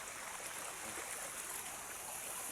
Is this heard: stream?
yes